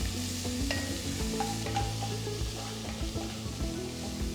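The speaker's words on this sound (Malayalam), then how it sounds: "ഇതിലേക്ക് 1 സവോള റഫായിട്ട് ചോപ്പ് ചെയ്തത്, അണിയൻസ് ഒന്ന് സോഫ്റ്റ് ആയാൽ മാത്രം മതി." Roughly chopped onion with crushed ginger softening in a frying pot for a one-pot chicken roast, giving a steady sizzle with occasional stirring scrapes and clinks throughout, no voices.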